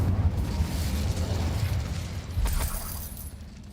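Incendio fire spell cast in the Hogwarts Legacy video game, inside a cavern: a rumbling, fiery burst with low roar and a crackling, shattering flare partway through, moderately loud and with no voices.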